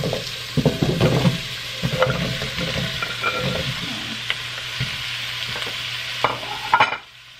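Pumpkin pieces are stirred in a hot frying pan, a steady sizzle running under repeated scraping and stirring strokes, close and fairly loud, ending abruptly near the close.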